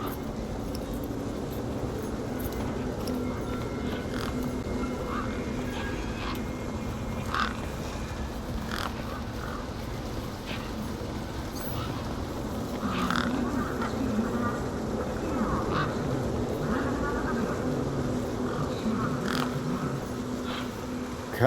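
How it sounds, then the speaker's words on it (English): Tough desert birds in the game Beyond a Steel Sky squawk and chatter in scattered, overlapping bursts over a steady buzzing hum that runs the whole length at moderate volume. "These were tough desert birds."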